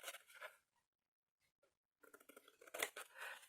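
Scissors re-cutting paper for a handmade Gorjuss violet mini album: a short burst of close snipping, a pause with faint ticks, then a longer run of quick crisp cuts and paper rustle.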